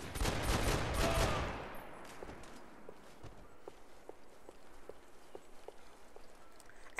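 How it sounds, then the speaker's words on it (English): A handgun fires in the video game Max Payne 3, booming like a shotgun: one loud, broad blast opens the clip and fades over about a second. Faint, regular ticking steps follow. "this handgun sound like a shotgun"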